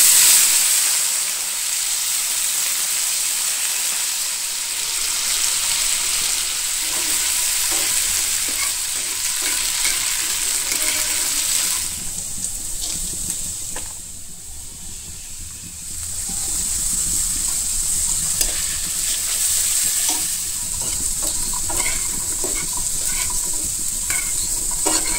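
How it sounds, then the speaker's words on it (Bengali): Pre-cooked, spiced meat pieces sizzle steadily in a pan, a constant bright frying hiss with occasional stirring scrapes, easing briefly midway before building again, with no talking. "এবার এটাকে ভেজে নিব।"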